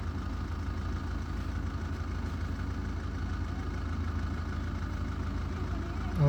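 A diesel car idles with a continuous low, even rumble, its radiator fan running and adding a steady whir to the engine drone, heard close and unbroken.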